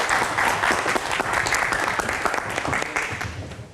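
Audience applauding a band at a live music event, steady dense clapping throughout, loud and close, with some faint crowd noise underneath.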